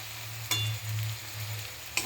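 Chicken pieces fry in a pan while being stirred, a quiet sizzle with soft scraping strokes and two sharper clinks of the utensil against the pan.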